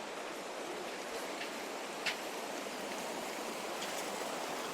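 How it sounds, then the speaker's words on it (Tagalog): Clear stream water flows and rushes beneath a hanging bridge in Baguio City in a steady wash, even and fairly quiet, with no voices. "makikita natin ang linaw po ng tubig na dumadaloy dito sa hanging bridge na to"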